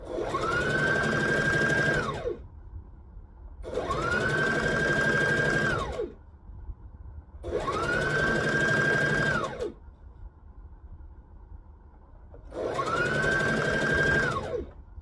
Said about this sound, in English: You just line it up, stitch it in small increments.